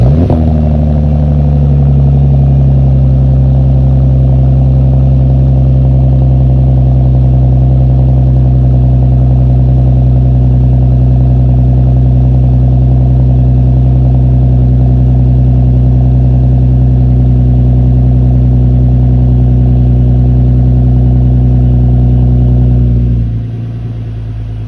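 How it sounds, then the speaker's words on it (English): Lexus IS engine after a spark plug replacement, starting up then settling into a steady, loud, close idle with a deep even hum that holds for over twenty seconds before dropping slightly at the end. "So we're gonna restart the car now that everything's double checked and installed"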